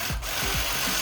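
An Earthquake impact wrench hammers at a brake bolt on a 2022 Honda Civic Si, giving a dense, loud, continuous rattling buzz for about a second, close up with no talking.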